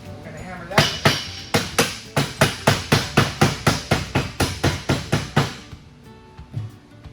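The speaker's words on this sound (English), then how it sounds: "we're going to hammer that in." Steady hammer blows ring out about twice per second while installing a sliding door kit, fifteen or so sharp strikes in a row, close and loud, before stopping.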